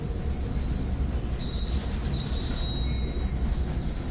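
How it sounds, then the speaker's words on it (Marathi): A train in the Indian Bike Driving 3D video game rolls on without stopping, giving a loud, continuous rumble with high metallic wheel squeal running steadily throughout. "रेल्वे थांबतच नाहीये मित्रांनो."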